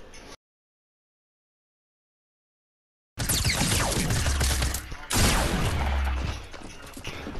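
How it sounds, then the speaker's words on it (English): Fortnite gunfight with shotguns: after a brief cut to silence, a dense burst of loud gunfire and clattering impacts fills several seconds, with a short break before a second intense volley. "There's a gunfight."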